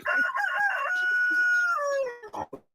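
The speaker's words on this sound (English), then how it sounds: "He actually sounds like a rooster" A rooster crows once, loud and close, its long drawn-out call rising then sliding down before a few clucks at the end.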